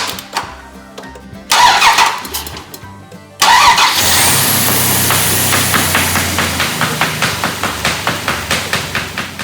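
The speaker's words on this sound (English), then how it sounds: "And this is the engine. Listen to this baby purr." A 1998 Dodge Dakota 4x4 pickup truck engine cranks briefly, stops, then cranks again and catches, settling into a loud, rhythmic, chugging idle.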